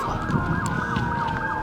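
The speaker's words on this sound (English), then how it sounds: "you literally can hear the sirens" Emergency vehicle sirens wail continuously during a Los Angeles wildfire, a steady rising-and-falling tone that carries over street noise and wind, moderately near and loud, with no one talking.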